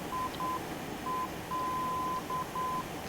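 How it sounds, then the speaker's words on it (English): Morse code navaid identifier tones inside a 737-200 flight simulator cockpit: a clear, steady beeping tone in short and long pulses with brief gaps, over a soft background hiss. "I have no idea of Morse code"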